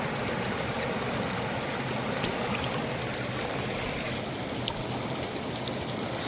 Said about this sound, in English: I'm going to fill it back up with creek water